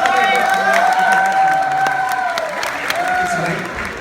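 Audience clapping at a comedy stage show, a steady wash of applause and crowd noise under a sustained sung or spoken voice.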